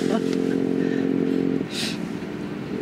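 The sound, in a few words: small motorcycle engine riding in cold weather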